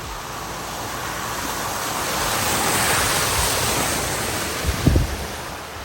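A vehicle driving through flooded Zambezi River floodplain water, heard as a broad continuous rushing, sloshing roar with wind noise, swelling in the middle and ending in a brief louder splash near the end.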